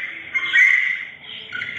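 A parrot at the Rohtak zoo in Haryana gives a loud, harsh, sustained squawk that swells, briefly dips, then rises again. It is close and clear, with no talking.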